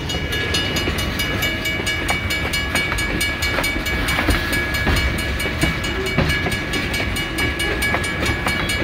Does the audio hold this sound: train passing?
yes